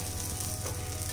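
Oil sizzles in hot soapstone cookware heated over a medium flame, a dense, steady hiss close up and fairly loud that fills the short moment without any voice.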